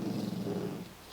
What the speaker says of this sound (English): My dog's growling at me.